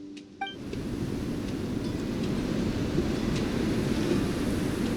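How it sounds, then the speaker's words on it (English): Strong sandstorm wind in a fantasy adventure video game roars as a steady, dense rushing gust after a brief quiet moment with small chimes, loud and continuous to the end. "The wind's so strong. Is this a sandstorm?"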